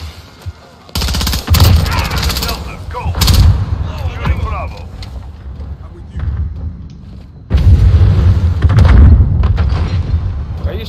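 Gunfire, heavy booms and artillery-like blasts in Call of Duty Modern Warfare tank combat during a Ground War match at Port of Verdansk, loud and dense in bursts with a quieter stretch in the middle, people shouting over it.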